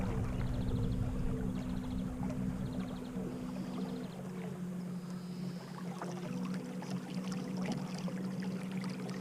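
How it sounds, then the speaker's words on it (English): A boat glides along the River Lot, pushed by a quiet 65 lb thrust electric motor with a fading battery, making a low steady hum under soft water and wind noise. "If I can use an electric motor over a petrol one, I will do every single day, because it's so much quieter"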